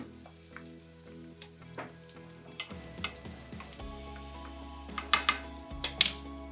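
Food fries in a pan with garlic and cumin, a soft steady sizzle under scattered scrapes and clinks as it is stirred and turned, building to sharper metallic knocks toward the end.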